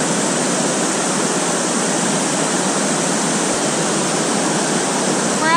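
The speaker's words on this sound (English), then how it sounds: "We're at the bottom of the waterfall where you can slide down" A waterfall at a natural rock waterslide in Paraty, Brazil pours with a constant, loud, dense rushing roar that holds steady throughout.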